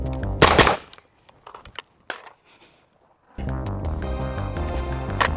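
A Robinson Arms XCR-L rifle fires on a competitive shooting stage: a loud close burst of shots, then a single sharp report, and a final shot over a steady roar of background noise.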